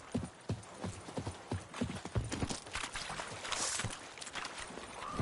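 Hooves of Roach, the horse in the game The Witcher 3, pound in a fast galloping rhythm, close and steady over soft ambient background.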